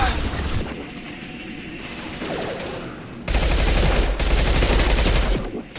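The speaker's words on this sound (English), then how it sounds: "I hate this submachine gun, by the way." Submachine gun fire in the Mass Effect 2 video game: rapid automatic bursts and impacts, loud and close, growing denser and louder in the second half of the clip with no talking.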